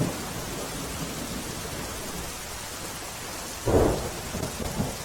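Heavy rain hisses steadily throughout in the border areas of Banaskantha district, Gujarat, with a sudden rumble of thunder near the end.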